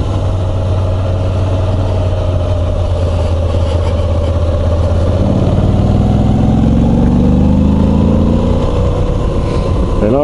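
A 2022 Moto Guzzi V85 TT travel motorcycle, an 850 cc engine, lugging at low revs: a steady deep idle throb, then a rising engine note as the throttle opens, struggling a little to pick up, loud and close throughout.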